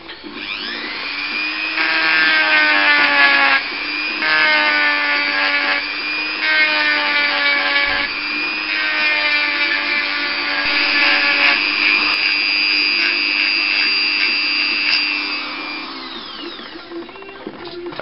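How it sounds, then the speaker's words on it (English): A small Dremel sander whines steadily as it sands a natural ash wood catapult, its loud high motor pitch dipping and recovering in several short load changes before spinning down at the end. "What I use for that, it's a little Dremel sander, in like so."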